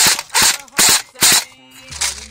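An AKS-74U Kalashnikov rifle firing fully automatic: four short, sharp bursts in quick succession, loud and close, followed by a mechanical clack and lower rumble at the end.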